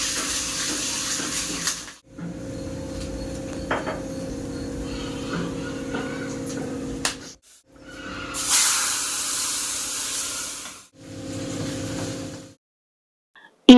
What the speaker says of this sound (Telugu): ఏమంటే వాటర్ ఫిల్టర్ ఆన్ చేశాను అనమాట.